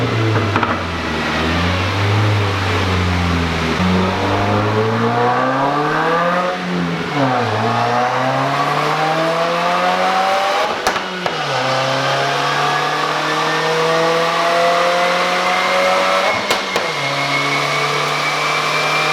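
A Subaru WRX revving hard on a dyno during a tune, recorded right at the exhaust: loud, continuous engine roar whose pitch climbs and sweeps through repeated rises, with brief dips between pulls.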